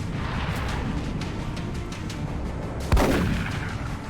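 A single heavy gunshot blast from the video game XCOM cracks out near the end, rising from a dense, noisy rumble of battle ambience.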